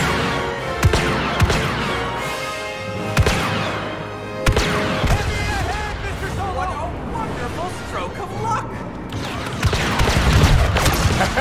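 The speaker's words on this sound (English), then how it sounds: "Improvise explosion." Explosions and gunfire in the Star Wars Battlefront II campaign, with sharp blasts and crackling impacts scattered through the scene while characters talk over the combat.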